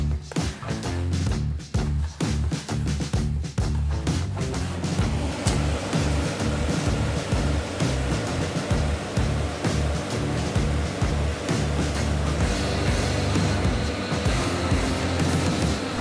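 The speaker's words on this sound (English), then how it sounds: "It's time to start mixing them together and adding the water." Sand and Fuller's Earth being mixed in a bucket make a continuous loud scraping, rushing churn close by, with irregular gritty pulses throughout and no talking.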